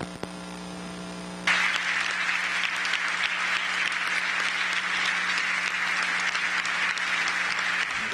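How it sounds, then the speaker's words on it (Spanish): Mexican Senate chamber holding a minute of applause in memory of Nelson Mandela: after a steady low mains hum, sustained dense clapping from a large standing assembly starts abruptly and continues evenly at full strength. "guardemos un minuto de aplausos en su memoria"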